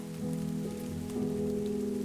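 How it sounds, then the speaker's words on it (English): Light rain falls steadily on a surface as a continuous soft patter, alone with no voices, under a constant low hum. "as it is actually raining now. Relatively light rain, but still raining."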